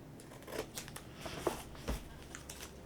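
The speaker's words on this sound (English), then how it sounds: "we're just going to use scissors because I'm not going to mess it up again" Scissors snip through paper while a Christmas list organizer is being made by hand, a handful of quiet, crisp cuts spread irregularly over a few seconds in a hushed room.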